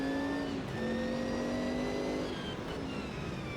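Group C sports car engine from the racing game Automobilista 2, a loud, steady, close engine drone holding pitch with a brief shift near the start, no talk.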